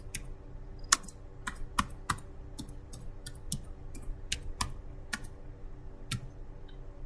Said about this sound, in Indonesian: Jadi pertama itu caranya kita ketikkan touch.